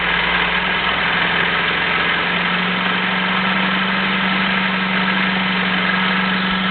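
Engine of a homemade water-powered car fed through bubblers, idling steadily up close with a constant low hum and a strong tone, running alone without voices.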